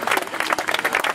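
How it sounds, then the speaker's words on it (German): A crowd at a peace vigil rally in Saarbrücken breaks into a short burst of loud, dense applause, many hands clapping at once, close and lively. "Kann man auch mal klatschen."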